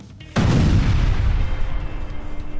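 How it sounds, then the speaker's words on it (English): A sudden deep explosion booms through a building, a heavy low blast that hits abruptly and then rumbles on with a long, roaring decay. "an explosion"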